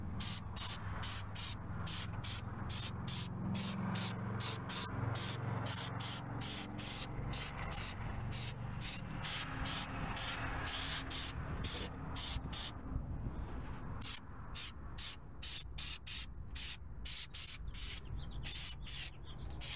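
An aerosol can sprays light coats of paint onto the underside of a car as a steady series of short, evenly spaced hissing bursts, close to the microphone, continuing throughout.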